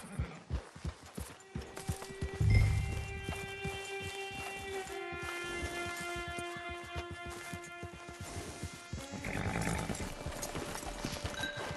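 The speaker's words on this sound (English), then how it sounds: "Hitch your horse." A horse in Red Dead Online on Xbox Series X clops along with close, rhythmic hoofbeats, then gives a long, drawn-out whinny over softer steps before the hooves pick up again.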